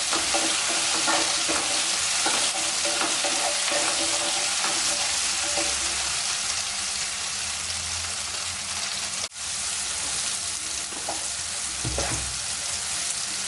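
Onions and tomatoes sauté in a pan for a Chettinad prawn curry, giving a steady, loud frying hiss throughout with occasional scrapes and knocks of stirring.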